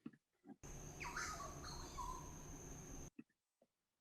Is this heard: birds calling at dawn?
yes